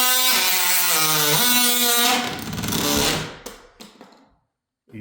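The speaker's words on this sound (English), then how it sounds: "the easiest way to cut these off is just with an oscillating tool" An oscillating multi-tool cuts through composite door shims with a loud, steady buzzing whine for about three seconds, then sputters and cuts out in short bursts before falling silent.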